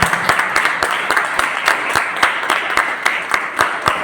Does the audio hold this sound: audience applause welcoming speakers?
yes